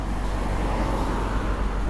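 Cars passing on a busy street outside a coffee shop, a steady low roadway rumble that swells slightly as vehicles go by, with faint voices mixed in.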